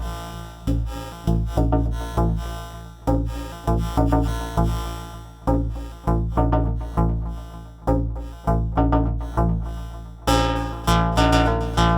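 A modular synth voice run through a filter that slowly fades from low pass into high pass after a delay, heard as a repeating plucked pattern of short, evenly spaced notes that brighten toward the end, alone and fairly loud.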